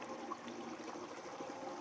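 Water runs through a Desert Fox spiral wheel gold concentrator in a faint, steady trickling flow, soft and continuous with no voices.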